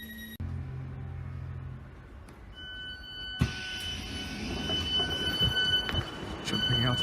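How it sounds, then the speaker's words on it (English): A nearly empty passenger train rolls along the rails with a steady low rumble, a high whining tone and intermittent metallic squeals and clunks, heard from inside the carriage. "It's quite the empty train."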